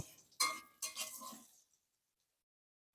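A metal spatula clinks against a frying pan while lifting out fried pointed gourd, giving two or three close, bright metallic taps within the first second and a half, then near silence.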